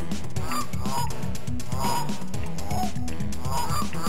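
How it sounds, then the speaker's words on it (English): Several geese honk loudly and repeatedly in a dense, overlapping chorus over continuous sound from the video game Curse of the Chocolate Fountain, with no pause. "Geese!"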